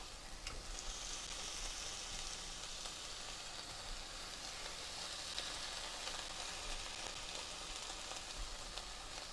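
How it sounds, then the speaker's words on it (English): Steady, continuous sizzling of vegan pad Thai ingredients frying in a hot pan, a dense hiss that stays even and loud throughout with no talking. "It sizzles when it drops"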